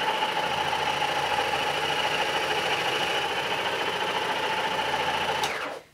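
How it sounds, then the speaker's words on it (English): A Beldray Sonic Multiclean cordless hard floor cleaner runs with a steady, loud mechanical hum and buzzing whine from its fast oscillating scrubbing head, close and unbroken until it shuts off at the very end. "I'm just going to recline the handle and I'm just going to turn the machine on,"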